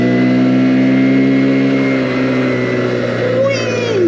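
A Keeway TXM125 motorcycle engine idles steadily, then its revs rise and fall as the bike pulls away, loud and close, with the tone wavering toward the end.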